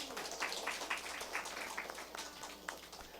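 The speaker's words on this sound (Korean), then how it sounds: "박수로 환영합시다" A small indoor church gathering gives a faint, scattered round of hand clapping to welcome a guest, soft and uneven with no talk.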